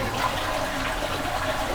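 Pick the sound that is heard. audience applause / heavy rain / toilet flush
toilet flush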